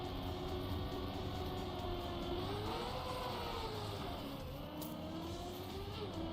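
Trackmania car engine drones steadily as it slides across ice, its pitch rising and dipping through gear changes, the tone continuous and moderately loud with no voices.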